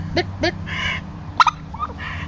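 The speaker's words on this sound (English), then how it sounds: "Can you gobble like a turkey?" Turkeys gobbling in a farmyard, with several short bursts of nearby gobbles spread across the moment, separated by brief pauses.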